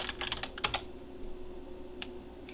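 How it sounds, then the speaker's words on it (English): Someone types on a computer keyboard, producing a quick burst of close, soft key clicks followed by a pause and a couple of isolated taps. "so I have everything typed in"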